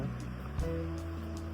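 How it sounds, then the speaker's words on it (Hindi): Water rushes at a hill waterfall in a steady, close, broadband roar that fills the short moment without pause. "इस झरने के साथ। थोड़ा बहुत आवाज़ तो आ ही रहा होगा"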